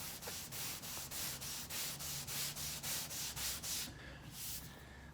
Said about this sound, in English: You're making almost full contact, sanding the long way, exposing any low areas that are there.